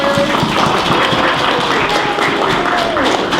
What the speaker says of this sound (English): Can we have a big round of applause for our volunteers?